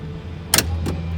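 Cable-action tailgate on a 1955 Chevrolet 150 Handy Man wagon being opened, a short mechanical clunk followed by a second softer clack about a third of a second later, over a steady low idle hum.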